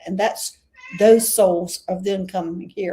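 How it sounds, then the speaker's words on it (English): A house cat meows loudly and repeatedly, in several drawn-out calls close by, interleaved with a person talking indoors. "Sorry, that's my cat,"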